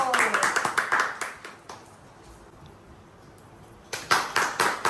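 A baby clapping hands, quick bursts of sharp claps at the start and again after a quiet gap, close by and fairly loud.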